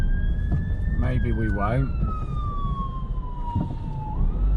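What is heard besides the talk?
emergency vehicle siren in traffic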